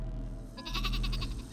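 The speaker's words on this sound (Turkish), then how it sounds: "Keçi." A goat in the video game Worms W.M.D gives a single quavering bleat, short and moderately loud, over a low game background.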